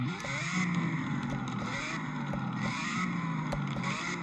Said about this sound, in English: As you can hear, the exhaust gets louder.